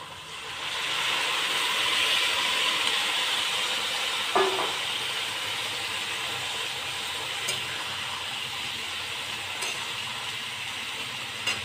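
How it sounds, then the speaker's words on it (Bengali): Peas and chickpeas hitting a pan of frying potatoes give a steady, fairly loud sizzling hiss that holds throughout, with a brief clatter of stirring about midway and no talking. "এবার আমি মটর আর এই ছোলাটা তুলে দেবো।"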